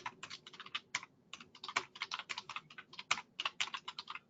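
Rapid, uneven typing on a computer keyboard, a steady run of close, crisp key clicks with brief pauses and occasional harder strikes, heard alone without talk.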